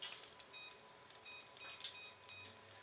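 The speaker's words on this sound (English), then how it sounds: "while those are frying" Breaded mac and cheese bites sizzle and crackle in hot oil, a steady dense popping and spitting, fairly quiet and close, with no voices.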